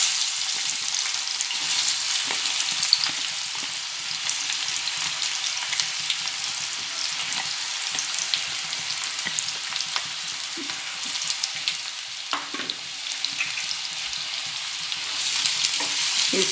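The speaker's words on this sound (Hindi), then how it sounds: "अब मैं इसमें प्याज डालूँगी, कटी हुई प्याज डालूँगी।" Chopped onions fry in hot oil in a frying pan on a gas stove, giving a steady, fairly loud hissing sizzle throughout with a few soft stirring scrapes and no voices.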